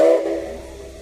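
A Tobu Railway SL Taiju steam locomotive sounds a brief, loud whistle on arrival, a single sustained tone that quickly fades into a soft hiss.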